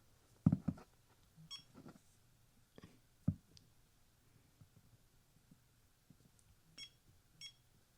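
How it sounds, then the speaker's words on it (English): A Limeta EB25 MagSafe power bank gives a few short, faint electronic beeps spaced apart, alone in a quiet room with soft clicks of handling. "Beep indicates battery level. Operation beep."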